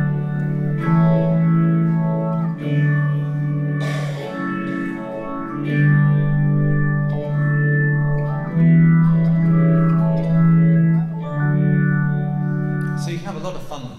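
An instrument run through an effects unit gives a sustained, organ-like tone with chorus, distortion and echo, held chords shifting steadily over a solo concert passage with no talking.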